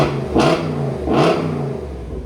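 A 2022 RAM 2500 pickup with a 6.4L HEMI V8 and a Flowmaster Outlaw muffler-swap exhaust revs twice in quick succession, each throttle blip rising in a deep roar before settling back to a rumbling idle.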